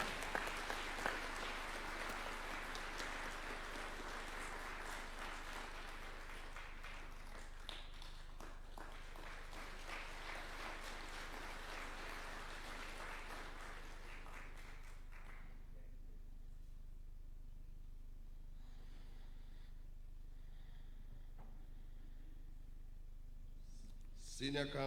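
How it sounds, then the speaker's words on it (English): Audience applause at a formal ceremony swearing in new Senior Counsels at State House, Nairobi, steady and fairly loud for about fifteen seconds before fading to a quiet room with scattered faint sounds. "Another clap would be in order."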